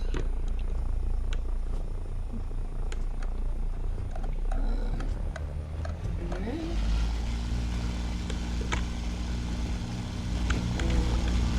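A War Thunder aircraft engine throttles up for takeoff, its steady droning hum rising in pitch and intensity partway through, while someone talks intermittently over it.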